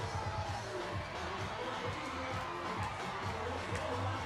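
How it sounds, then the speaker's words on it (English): A rugby crowd at a home quarter-final game makes a dense, continuous roar of chatter and cheering at a steady level throughout. "We've got a great crowd this afternoon, Koli."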